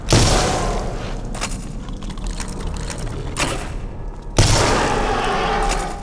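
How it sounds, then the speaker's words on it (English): Heavy booming shotgun blasts from a spooky first-person shooter game, two loud shots a few seconds apart, each with a sharp attack and a long decaying rumble, standing alone without talk. "Its shotgun works at point blank range, but anything else and it's a frustrating gun to use."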